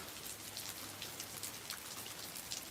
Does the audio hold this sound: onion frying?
no